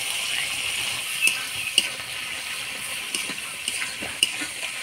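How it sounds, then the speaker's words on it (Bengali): Spice paste fries in a pan after a splash of water from rinsing the spice bowl, giving a soft, steady sizzle with scattered light clinks and scrapes of stirring close by. "এবার অল্প মশলা বাটি ধোয়া জল দিয়ে মশলাটা ভালো করে কষাই নেব।"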